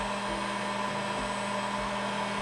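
A heat gun set to a fairly low temperature blows hot air onto acrylic tubing, a steady, loud, broadband whooshing drone with a constant motor whine held close throughout.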